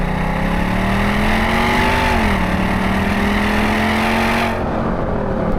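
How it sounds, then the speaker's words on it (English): A Mercedes-AMG V8 engine revs hard and pulls under acceleration, a loud, steady, rising engine note that holds close for several seconds before cutting off abruptly near the end. "it does still have that wonderful V8 tone, and it does not hang around"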